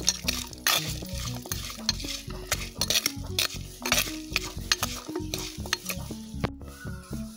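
Pepper and turmeric being sautéed for a chicken curry masala over an outdoor fire in a garden, with steady stirring scrapes and a soft frying sizzle throughout, no talk.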